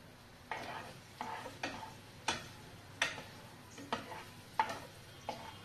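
Chicken adobo being stirred in a pot at home, a spoon or spatula scraping and knocking the pot in about nine evenly spaced strokes, close and fairly quiet with no talk.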